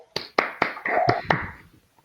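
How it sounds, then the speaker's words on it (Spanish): An audience at a talk applauds briefly: several sharp, separate claps at an uneven pace, fairly close, quickly thinning out and stopping. "Aplaudimos."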